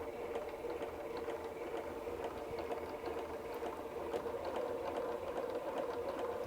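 A Bernina sewing machine runs a standard straight stitch after the basting function is switched off, its needle bar driving every stitch in a steady, continuous mechanical whir with a fast regular patter, close and alone.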